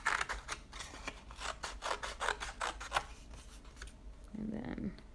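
Scissors snip through paper for an art journal page in a quick run of sharp, close cuts over about three seconds, followed by a softer rustle of the paper being handled.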